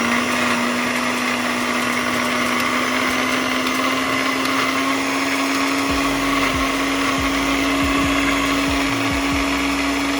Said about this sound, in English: We're gonna get out my other blender because as you see, that one was not working.